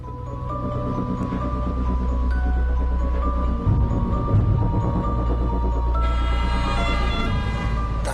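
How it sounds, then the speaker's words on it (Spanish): Ambulance sirens wailing through city traffic, a steady, loud layer of sustained tones over a dense rumble with no voices. "Se oían sirenas."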